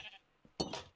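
Minecraft sheep bleating in a hardcore survival game: a short, fairly close bleat that rises quickly and trails off, preceded by a faint softer sound.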